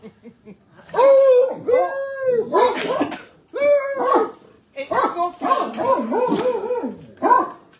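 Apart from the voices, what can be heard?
dogs barking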